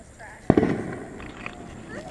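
A single 'walking zombie' firework bursts with a sharp pop and crackle during a Fourth of July backyard display, followed by fizzing under voices talking nearby.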